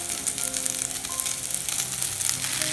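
Crumbled leftover idlis frying with golden-brown onions and a pinch of turmeric in a pan for idli upma, making a dense, continuous close sizzle with light crackling under it.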